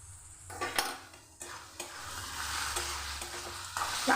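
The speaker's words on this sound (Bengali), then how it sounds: "এভাবে নেড়ে আমি কিছুক্ষণ ভালো করে একটু ভেজে নিচ্ছি।" Piring greens and aubergine are stir-fried in a pan, with a loud sizzle and repeated scraping, clattering strokes of a spatula against the metal at an uneven rhythm.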